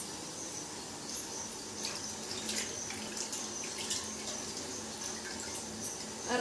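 Water runs steadily from a tap while a rope is washed, a soft continuous splashing flow with small irregular splashes and clinks and faint insect chirping in the background.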